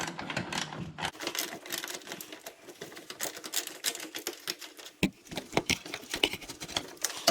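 A 10 mm socket on a ratchet works a bolt loose on an R56 Mini Cooper during A/C compressor and condenser work, a quick run of close, sharp clicking ratchet strokes that pauses briefly and then resumes in rapid patter.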